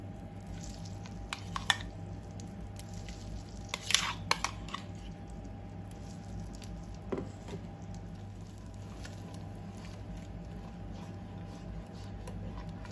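Pumpkin puree goes into melted ghee in a pan over a low flame, giving a soft continuous sizzle with occasional wet squishes and a few sharper scraping stirs, quiet and close, no talking.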